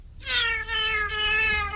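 A cat gives a long, loud, drawn-out meow close by, rising and wavering over almost two seconds with no other sounds around it.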